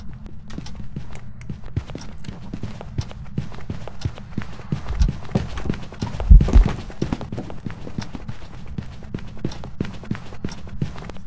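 Rapid footsteps pound along steadily in a quick, clopping rhythm, with a heavier burst of impacts midway through, over a low rumbling background.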